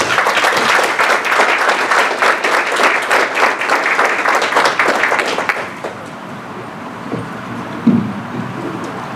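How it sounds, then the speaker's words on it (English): Broad, dense applause from an audience at a school board meeting fills the first several seconds, then fades to a quieter room with a few scattered claps and small knocks. "let's give her a round of applause"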